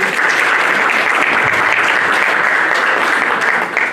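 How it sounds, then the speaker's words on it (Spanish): Strong audience applause in a panel hall for a professor, a loud, continuous bed of clapping from a seated crowd that holds evenly before tapering slightly at the end. "para quien pido un fuerte aplauso."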